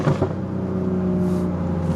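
BMW M235i (F22) with a burble-flash exhaust tune in Sport Plus mode, a steady low engine drone heard from inside the car, fairly quiet and even, without pops or crackles.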